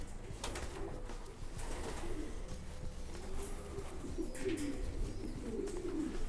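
Kipp und Söhne racing pigeons coo softly in a breeding loft, with low repeated calls over a constant faint background murmur and no speech.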